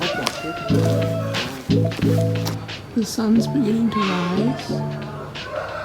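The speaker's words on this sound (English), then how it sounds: "you can hear the chickens roar" Roosters crow in short bursts at sunrise in Vietnam, fairly close, while a person talks over and between the calls.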